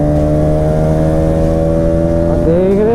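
A Bajaj Pulsar 200 motorcycle engine idles loudly up close with a steady, throbbing drone, its pitch rising slightly as it revs near the end.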